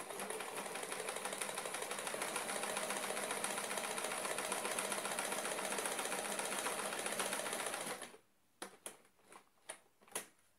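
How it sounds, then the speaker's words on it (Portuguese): A sewing machine runs steadily for about eight seconds while stitching fabric squares closed, a loud, close mechanical whir, then stops and gives a few short separate bursts as single stitches are added. No one talks. "vamos passar uma costura em pé de máquina todinho, fechando esse quadradinho"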